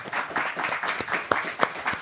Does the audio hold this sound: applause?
yes